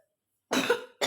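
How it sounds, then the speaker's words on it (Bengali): A sick person gives two close, raspy coughs. The first is harsh and lasts about half a second after a moment of silence, and the second starts just after it ends. "আমাকে ক্ষমা করে দিন যে আমার এত কাশি আছে, কারণ আমি অসুস্থ।"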